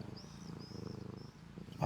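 A cat purrs close to a microphone, a soft, steady rhythmic rumble pulsing throughout, ending with a brief louder bump.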